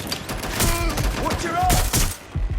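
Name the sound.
gunfire in video game Watch Dogs: Legion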